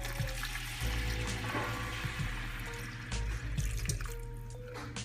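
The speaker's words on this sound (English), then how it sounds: "we're just gonna add 4 cups of water." Four cups of water poured into a cooking pot holding smoked turkey for collard greens, a steady splashing pour with dripping and a faint hum underneath, no talking.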